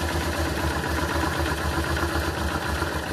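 A Honda Transalp motorcycle engine idles roughly with a steady, low, pulsing throb and a faint mechanical rattle, close up and uninterrupted.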